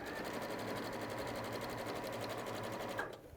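A Juki sewing machine stitches fabric in a fast, even run of needle strokes that stops abruptly near the end. The sound is close and moderately quiet, with no talk over it.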